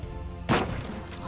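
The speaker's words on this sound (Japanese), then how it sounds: "同じとこから銃声" Single gunshot in the mobile shooter game Knives Out, one sharp crack heard amid steady game background noise.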